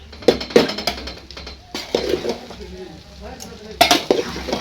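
Utensil scraping and stirring in a pan, in short bursts with pauses, over a faint sizzle.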